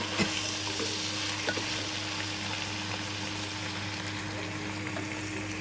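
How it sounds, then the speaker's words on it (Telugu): Country chicken curry frying in a pan as it is stirred and tomatoes go in, a constant close sizzle with soft scraping stirs and a few light knocks, no talking. "ఇంకొకసారి తిప్పుకొని టమాటా వేస్తాం"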